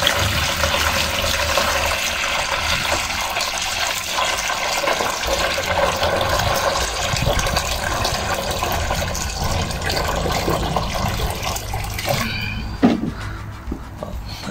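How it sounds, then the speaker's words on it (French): Water pours steadily into a basin outdoors while leeks are prepared for transplanting, a continuous broadband rush that runs for most of the stretch before tapering off near the end. "l'eau dans la bassine."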